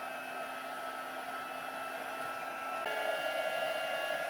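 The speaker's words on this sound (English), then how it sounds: "And turning on the noisy heat tool machine." A heat tool used for card making blows hot air in a steady, droning whoosh with a whiny motor tone, close and fairly quiet, rising slightly in pitch and level partway through, with no talking.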